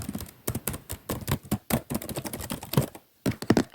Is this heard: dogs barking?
no